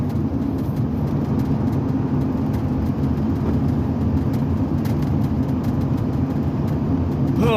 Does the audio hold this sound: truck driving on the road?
yes